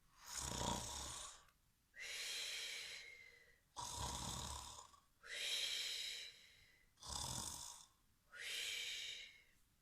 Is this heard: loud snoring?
yes